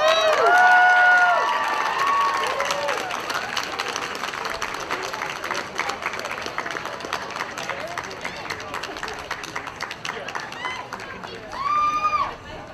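Audience applauding and cheering the winners of a Homestuck cosplay costume contest at a Cherry Blossom Festival, loud crowd clapping that starts right away and holds steady, with a voice talking over the start and again near the end.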